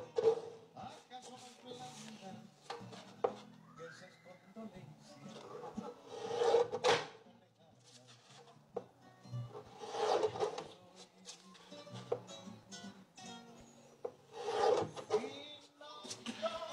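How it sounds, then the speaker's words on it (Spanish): Slow scissor cuts through 230 gsm photographic card stock, made for a school colouring-book craft, give several uneven rasping bursts, close and moderately loud, with some quiet talk between them. "Esto funciona sobre todo cuando cortas cartulina"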